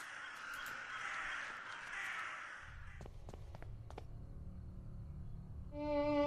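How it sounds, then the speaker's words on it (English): Crows caw repeatedly in a foggy video game scene, several harsh calls in a row over a steady ambient wash, followed by a low rumble and a brief musical tone at the end. "I hear crows."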